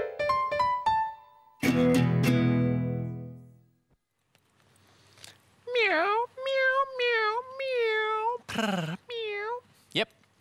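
Several meows in a row, some high and drawn out, in short bursts after an opening musical jingle, with speech nearby.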